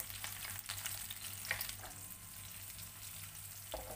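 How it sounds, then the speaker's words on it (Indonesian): Shrimp paste (terasi) fries and sizzles in a pan with steady crackling, brief stirring scrapes breaking through at intervals, close and fairly quiet with no voices. "masukkan terasi. Goreng hingga matang ya teman-teman."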